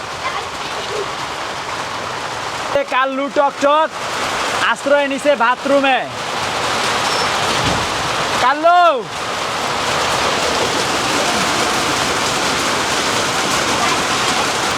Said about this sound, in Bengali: গাইস, বৃষ্টি জোরে পড়তেছে গো।